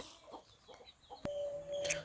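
Peruvidai breed roosters and hens cluck softly at close range, with scattered short calls, one sharp knock and a brief high squawk near the end.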